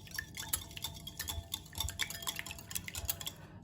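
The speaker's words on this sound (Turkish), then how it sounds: "Yumurtayı şöyle biraz çırpıyorum." Close, busy clinking and tapping as a fork whisks an egg in a bowl for pancake batter, a quick steady rhythm of small metallic ticks against the dish, with no voices.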